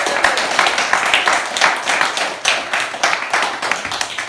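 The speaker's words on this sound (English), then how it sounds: "Give Jordan a round of applause" Reunion-show audience clapping for a contestant, a dense run of individual hand claps with a busy, slightly uneven rhythm that holds steady throughout at moderate loudness, close and clear.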